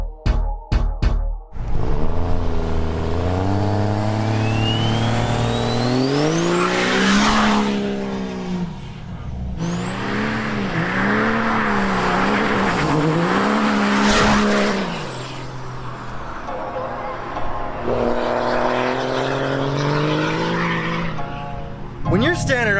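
A vehicle engine revving hard at full throttle close by, loud with rising and falling pitch sweeps and squealing, sustained over twenty seconds, with people's voices mixed in at times.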